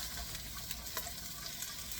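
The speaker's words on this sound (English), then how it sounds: "the carrots and leeks are going to go in, and we're going to be sauteing them" Carrots and leeks sauté in a pan, giving a faint, steady sizzle with light scraping stir sounds running continuously and close by.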